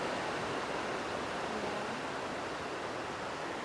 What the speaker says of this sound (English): This river is just like so powerful.